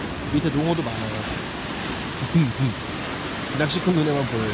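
Ocean waves roll in at Homigot cape on the Pohang coast, a steady broad wash of surf close by, with someone talking over it.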